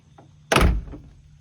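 A car door swings shut with one solid, loud thunk close by, then quiet with a faint rattle after it. The car is an old Thunderbird being restored.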